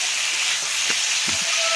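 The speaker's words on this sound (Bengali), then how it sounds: "কুয়াশ আলু, এটা একটু মশলা দিয়ে কষিয়ে নিচ্ছি" Squash and potatoes frying with spices in a pan, a steady close sizzle and hiss with a few soft stirring knocks.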